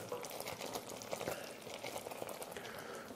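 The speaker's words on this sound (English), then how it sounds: "Can you see how lovely and thick it sounds? So it's like that nice bubbly." Sugar mixture for traditional Scottish tablet boils thickly in a pan, giving a steady close bubbling and popping with a faint background hiss throughout, no voices.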